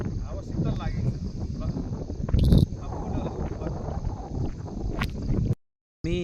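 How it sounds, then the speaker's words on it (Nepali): Cool wind on a hilltop rushes across the microphone in a steady low roar, with a brief louder gust midway and a short dropout to silence near the end. "यो डाँडाको बिचमा एकदम रमाइलो छ, हावा सर्र लागेछ"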